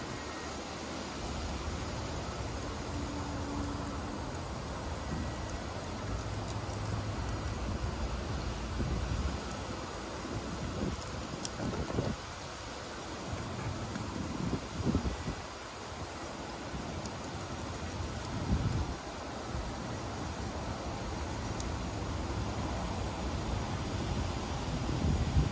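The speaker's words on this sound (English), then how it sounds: "crazy windy out here" Strong outdoor wind roars steadily across the microphone in broadband gusts, loud and continuous with no speech, beside a Liebherr 946 excavator.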